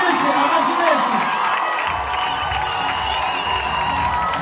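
An award-ceremony crowd breaks into cheering, whoops and applause for a category winner. The mixed shouting and clapping is sustained and loud throughout, and voices rise above it.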